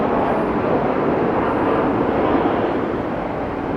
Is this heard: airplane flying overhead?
yes